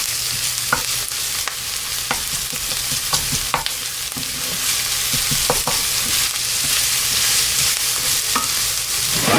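Garlic fries on low heat in a pan, making a steady, close sizzle with occasional scraping stirs and light utensil taps throughout, and no talking.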